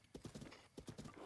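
Horse hooves clip-clop in the video game Breath of the Wild, a quick run of rhythmic hoof beats in two bursts, quiet and without talk.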